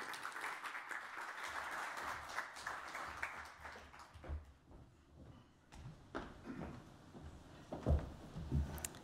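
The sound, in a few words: audience applauding the speaker's welcome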